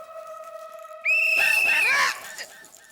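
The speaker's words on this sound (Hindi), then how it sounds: "टप्पू बंद करे, ला सीटी ला इधर" A toy whistle is blown, giving a single shrill, steady tone that lasts about a second and cuts over voices and background noise.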